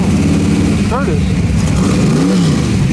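At the 2016 Pebble Beach Concours, a 1930 BMW, the oldest BMW in the United States, runs its engine close by. It gives a loud, continuous mid-pitched drone with brief revving rises, mixed with crowd noise and people talking nearby.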